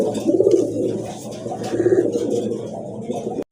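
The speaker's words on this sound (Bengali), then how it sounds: "আরেক জোড়া কবুতর দেখেন" Pigeons at a pigeon sale, among them pairs of crested Muslidom pigeons, cooing steadily in repeated low throaty rolls. The birds are close and fairly loud, with no talk over them.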